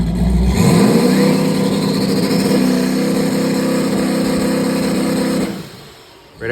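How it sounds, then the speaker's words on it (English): A truck engine is held at high revs during a two-step check of its torque converter, a loud sustained roar that rises briefly at the start and drops off near the end, close up. "So I did a two-step check right after to test this converter"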